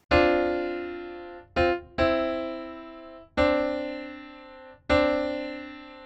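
Two-voice piano chords from the top line of a progression, struck five times in a steady sequence, each ringing and decaying before the next, close and clear with no talking.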